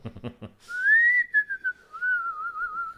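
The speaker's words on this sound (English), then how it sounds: "Why don't you whistle a tune for us?" A clear, sustained whistle carries a melodic line, gliding up and then wavering, preceded by a brief burst of low rustling.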